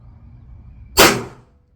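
A single loud, close gunshot from a Pietta Peacemaker revolver firing a .357 Magnum round, a sharp broadband crack with a short decaying tail after a quiet lead-in.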